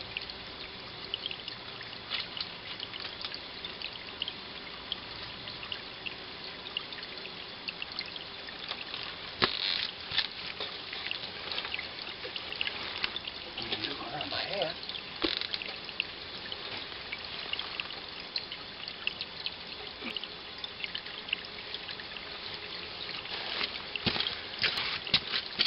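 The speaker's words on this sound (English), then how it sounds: "the water's running clear" Clear water runs steadily from a springbox at a rural camp, a continuous pouring trickle that holds near and even throughout with no voices.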